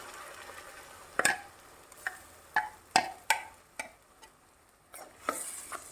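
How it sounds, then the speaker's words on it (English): Goan red chutney paste is stirred into sautéed onions in a pan, giving a string of sharp spoon scrapes and clacks in irregular rhythm over a faint, steady sizzle, with no voices. "So now our onion is already sauteed. We'll add the paste."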